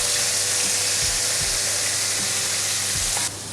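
Prawns frying in hot oil, a Sri Lankan spicy prawn batch, give a steady loud crackling sizzle with a few soft knocks underneath, cutting off sharply near the end.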